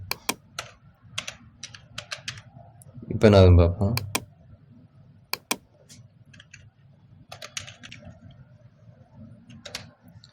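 Keys tapped on a computer keyboard in scattered quick bursts and single clicks at close range, with someone speaking briefly partway through.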